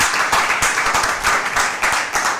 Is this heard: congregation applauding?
yes